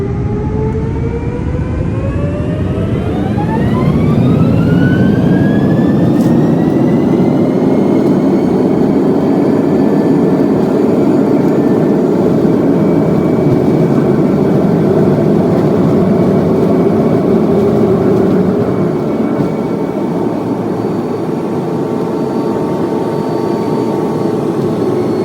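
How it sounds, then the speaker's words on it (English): Inside the cabin of a Singapore Airlines Boeing 787 on its takeoff run, the jet engines build from a rising whine into a loud, sustained roar that holds steady and close throughout. "After barely any time at all, we were ready for takeoff."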